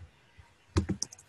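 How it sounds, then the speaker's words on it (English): A short burst of computer keyboard typing, a few quick key clicks close up after a quiet pause, while entering a command in a terminal. "I'm just going to type in mind."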